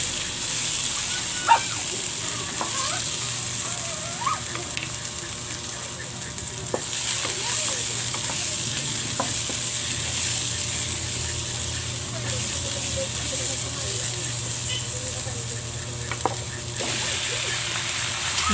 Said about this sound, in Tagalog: Sliced tomatoes. Yun guys. Igisa lang natin.